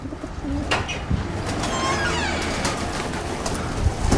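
Breeding pigeons coo in a spacious aviary, soft repeated low coos mixed with rustling and brief scuffs close by, continuous throughout.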